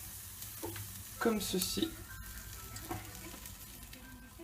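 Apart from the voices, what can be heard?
bacon and pasta sizzling in a pan for carbonara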